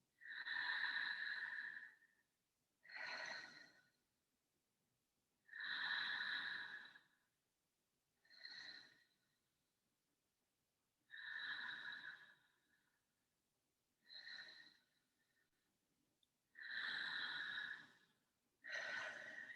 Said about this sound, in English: Take 3 deep,